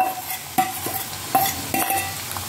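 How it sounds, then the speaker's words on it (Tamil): Onions sauté in a pan before tomato goes in, with a steady sizzle and several clinks and scrapes of a spoon stirring against the metal, and no talking. "வெங்காயம் வதங்கிட்டு இந்த தக்காளி இதில் போடுறேன்."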